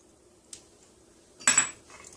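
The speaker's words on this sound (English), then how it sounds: "And give that a little stir" A utensil stirring vanilla into cookie dough in a bowl, a faint tap followed by a louder clinking scrape against the bowl and a softer scrape afterward, with quiet between.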